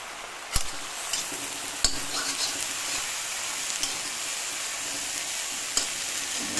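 Fenugreek greens fry with garlic in a pan with a soft, steady sizzle while a spatula stirs them. A few sharp clicks and scrapes against the pan stand out at irregular intervals, close and fairly quiet, with no talking.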